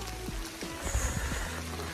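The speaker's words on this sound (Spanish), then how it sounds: "Llueve a lo bestia." Heavy rain pours steadily along the Camino de Santiago, a dense continuous hiss with scattered low thumps and spatters, fairly loud and close throughout.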